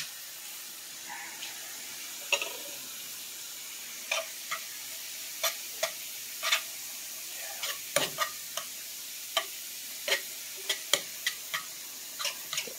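A spoon scrapes and taps in a pan of shrimp and grits, making repeated sharp clicks at an uneven pace over a faint simmering hiss; the stirring sounds close, with no talking.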